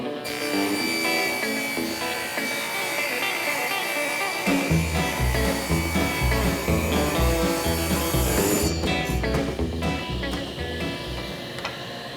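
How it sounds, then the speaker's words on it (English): A table saw rips a walnut strip for the center of a cutting board, a loud sustained whine and buzz of the blade cutting hardwood, with a heavier grind partway through and a close, continuous run. "we're just going to go ahead and rip that walnut strip, which will be the center portion of our cutting board"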